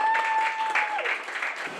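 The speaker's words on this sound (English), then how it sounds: "round of applause to her" Applause from an audience at a company relaunch event, greeting a woman as she comes up; brief, steady clapping that holds for under two seconds.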